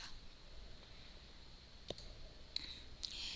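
Faint computer mouse clicks while working in spreadsheet software, three sparse, sharp clicks spaced out over a quiet background.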